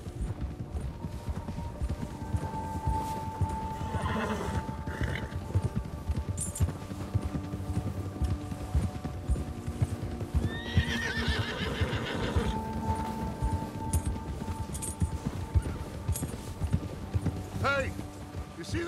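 Horses gallop in Red Dead Redemption 2 with steady rhythmic hoofbeats and occasional neighs and whinnies, while game characters talk and shout over the ride.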